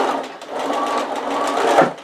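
A sewing machine stitches the corners of a zip pouch, a steady, close, loud motor hum with rapid needle rhythm running throughout and no talk.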